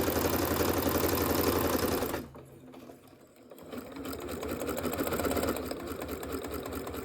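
A sewing machine chain-pieces white and pink quilt pieces for a scrappy heart block, its close, even whir running for two seconds, stopping briefly, then starting up again steadily.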